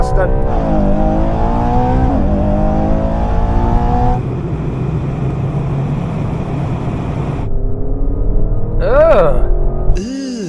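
Two performance SUVs, an Aston Martin and a Ferrari, launch in a drag race with loud rising engine revs and gear-change drops. Someone talks over the roar, and a tire squeal with a sharp rev closes the run.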